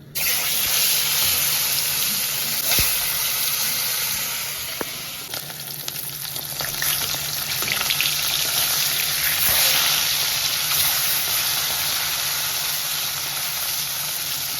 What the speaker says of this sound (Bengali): হালকা ভেজে তুলে নিচ্ছি ভেজে নেবো